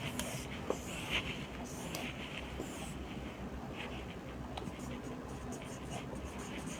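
Pen or pencil scratching across paper while a maths word problem is written out by hand, faint strokes partly buried under steady background rumble, with a voice talking at moments.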